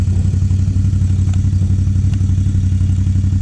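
A Polaris off-road vehicle engine runs close by with a loud, steady low rumble and a faint mechanical clatter throughout, no voices.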